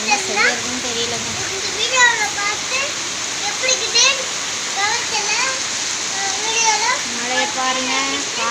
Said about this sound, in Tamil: எவ்வளோ மழை பாருங்க.